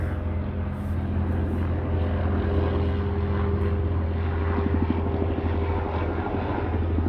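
A helicopter drones steadily overhead, its rotor thumping in a continuous low hum that stays loud without fading.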